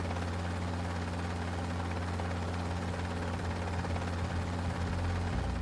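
A Chinook helicopter hovering with a slung payload, a constant droning rotor throb with a strong low hum, steady and unbroken, heard from some distance with no voices.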